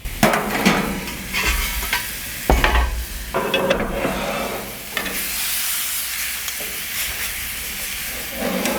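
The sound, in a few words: flank steak fajitas sizzling in a pizza oven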